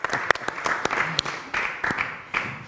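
Audience applause at an Algerian evening show, several bursts of clapping from a lively crowd, mixed with voices and cheering, loud and close.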